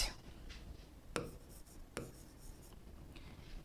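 A pen scratching on paper, soft and close, with a few sharper strokes and taps among quiet continuous rubbing, no talking.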